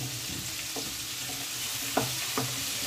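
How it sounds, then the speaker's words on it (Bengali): Radish, pumpkin and eggplant pieces fry in an oil-filled pan, a steady close sizzle with a few sharp stirring scrapes of the spatula near the end. "মূলো কুমড়ো কিছুটা ভাজা হয়ে গেল, এবার বেগুন দিয়ে দিলাম।"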